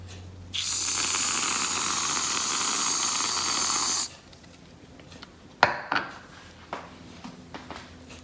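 Whipped cream sprays from a can onto a pumpkin spice frappuccino in one loud, steady hiss of about three and a half seconds, followed by quieter clinks and taps.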